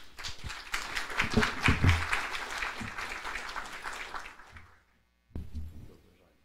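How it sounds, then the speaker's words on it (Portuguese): An audience at a seminar applauds for several seconds, a dense patter of many hands that fades out, followed by a brief pause and a low sound near the end. "para quem peço uma salva de palmas"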